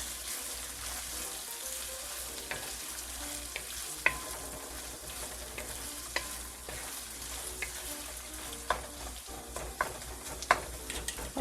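Sliced onions frying over ginger in a pan for a Punjabi dhaba-style rajma tadka: a steady close sizzle, with stirring scrapes and occasional sharp utensil clicks throughout.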